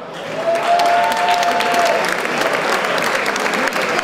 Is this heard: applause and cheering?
yes